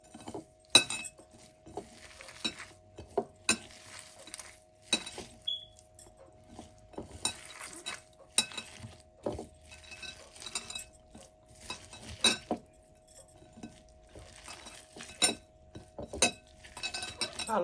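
Bare hands mash chilies with onion and salt in a bowl, giving repeated light clinks and taps against the dish at an uneven pace through the whole stretch, with no talking.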